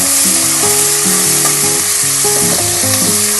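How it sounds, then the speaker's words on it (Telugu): Onions fry in a pan until brown for an egg fry, giving a loud, constant sizzling hiss close up, with a melody of background music running over it. "ఆనియన్స్, బ్రౌన్ కలర్ వచ్చేంత వరకు వేయించుకోవాలి."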